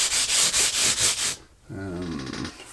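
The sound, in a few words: sanding block rubbing guitar frets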